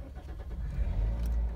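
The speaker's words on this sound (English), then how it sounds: "Oh yeah, turn the car on." A car engine cranks and catches, rising into a deep, close idling rumble after a brief rattle.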